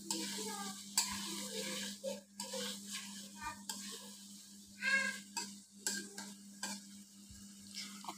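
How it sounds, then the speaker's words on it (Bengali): Large fried potato chunks stirred into a sizzling spice masala for an egg and potato curry, with a steady frying hiss under repeated spatula scrapes and light clatter in the pan, moderately loud and close. "এখন আমি এই বড় বড় করে ভেজে রাখা আলুগুলো এতে দিয়ে দিলাম। আলুগুলো মশলার সাথে খুব ভালোভাবে মাখিয়ে দিচ্ছি।"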